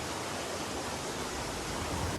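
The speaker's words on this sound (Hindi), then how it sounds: "पानी का फ्लो इतना ज्यादा है कि गाड़ियां भी बहने लगी" Rushing flood water in Mecca, strong enough to sweep cars away, a dense, steady roar of torrent noise filling the whole span without a break.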